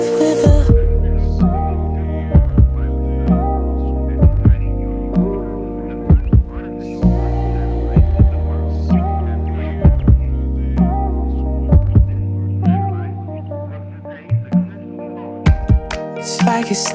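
A heartbeat sound effect thumps at steady intervals over a sustained, humming musical bed in a line dance song, each beat a deep double pulse standing out clearly.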